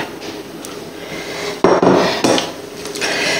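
Tiramisu mixture stirred in a bowl, with close scraping and knocking of a utensil against the bowl and one louder clatter partway through, no talk.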